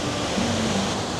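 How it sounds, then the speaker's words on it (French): A large mountain waterfall on the Valaisonnay trek, swollen after heavy rain, roars as a loud, steady, broadband rush of falling water with no other sounds. "Et là, il y a une méga cascade."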